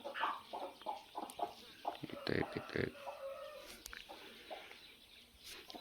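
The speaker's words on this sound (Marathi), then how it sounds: "हे आपलं जेवढे दिसतात सगळे कुडूक कोंबडे आहेत आपले" Free-range country chickens cluck in short, scattered bursts nearby on a village poultry farm, with a person speaking softly among the birds.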